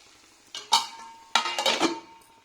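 A pan of ridge gourd curry is stirred and covered with its lid: two short bursts of metal scraping and clattering, close by and moderately loud, with a quiet pause between them and no talking.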